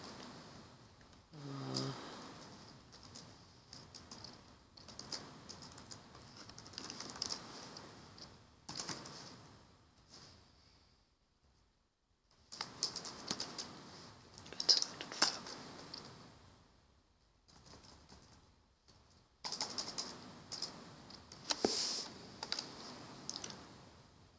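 Quiet, close computer keyboard typing in irregular bursts of rapid key clicks separated by short pauses and one longer silence, with no talking.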